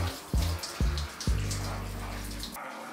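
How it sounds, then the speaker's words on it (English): Cold water from a shower head splashes in three quick bursts against a body, then runs in a steady close spray before cutting off abruptly. "Take the shower head once you're done with your quickie and just use it to go down your body, your back, your legs"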